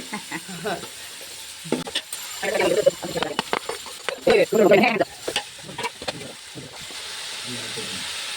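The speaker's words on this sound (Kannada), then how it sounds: "ದೊಡ್ಡ ದೊಡ್ಡ ಈರುಳ್ಳಿ ಹಾಕ್ತಿದ್ದೀನಿ." Large onion pieces go into a hot pan for mandakki usli, giving a close, uneven sizzle with stirring bursts that swell and fade over several seconds; no one speaks.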